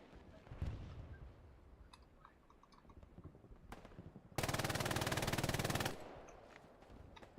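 Machine gun fire in the Hell Let Loose video game, set in the Hurtgen Forest, arrives as a sustained rapid burst lasting about a second and a half, loud against quieter scattered clicks and faint background noise.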